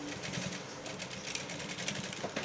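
A sewing machine stitching fabric, with a rapid, steady mechanical chatter of the needle running continuously and fairly quietly, and a few faint clicks on top.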